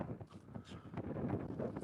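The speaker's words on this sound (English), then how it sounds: "Damn, that wind's getting brutal." Strong wind blows across a microphone outdoors on a fishing trip, a low rumbling buffet that rises and falls throughout.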